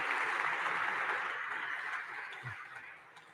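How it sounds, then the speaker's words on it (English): Audience applause for five startup companies pitching at Converge South 2025, a moderate, steady patter of clapping that fades toward the end. "Let's give them a big round of applause."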